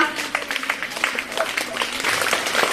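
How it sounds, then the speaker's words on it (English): A school audience claps for a student at an English language club event, a moderate, somewhat scattered round of applause with a faint voice murmuring beneath it. "Give a big clap for Bhavya."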